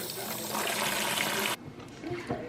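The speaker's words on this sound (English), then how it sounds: "So I'm gonna fill this container with fresh cold water." Running water pours steadily into a container as fresh cold water fills it to rinse sea moss, a broadband rush that cuts off sharply partway through, leaving quiet handling noises.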